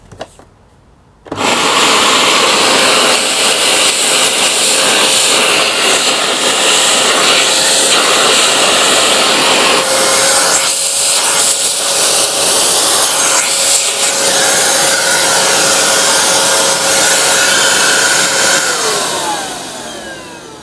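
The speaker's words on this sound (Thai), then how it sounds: "ก็เสียงก็ค่อนข้างดังตามสไตล์เครื่องดูดฝุ่นทั่วไปนะครับ" Samsung 1800W vacuum cleaner switching on after a moment of quiet and running loudly with a steady whining roar and a high motor tone, easing off at the very end.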